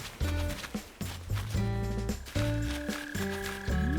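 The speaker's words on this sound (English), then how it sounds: "Okay, where are these mole crickets?" Mole crickets chirp from underground in a cozy spring-themed life-sim game, a steady run of bright chirping tones layered over bouncy game music and sound effects, close and moderately loud.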